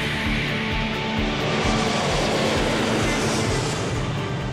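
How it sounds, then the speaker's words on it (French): The world's largest civil airliner taking off at a major airport, a continuous, loud, broadband engine roar that stays steady and powerful throughout. "Et le plus gros avion civil du monde prend son envol."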